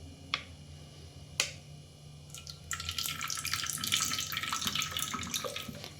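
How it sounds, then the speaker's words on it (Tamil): Cooking oil is poured generously into a heated pan while making potato rice. Two sharp clicks come first, then a continuous close hissing pour that fills the rest. "பாருங்கள் ஃப்ரெண்ட்ஸ், எண்ணெய் ஊற்றுறேன்."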